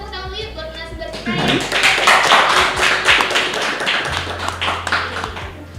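Applause from a studio audience for a guest speaker swells after a spoken prompt, with dense clapping running for several seconds before tapering off as a voice returns.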